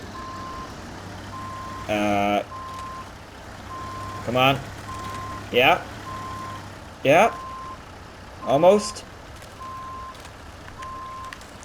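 A truck in the SnowRunner game reverses with a steady, evenly spaced electronic beep that carries on for the whole stretch. A player's brief exclamations break in several times over the engine drone.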